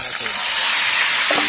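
Broiler chicken meat sizzles and hisses steadily in a hot pan, a close, continuous frying noise with a brief clink near the end and a voice faintly in the background.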